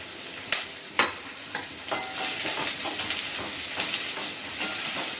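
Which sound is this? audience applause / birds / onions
onions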